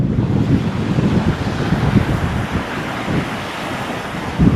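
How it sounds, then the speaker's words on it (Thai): Strong wind and breaking surf at Saeng Chan beach in Rayong, a steady loud roar of waves with gusty wind buffeting the microphone throughout, no voices. "ขึ้นลมแรงเหมือนเดิม หาดแสงจันทร์"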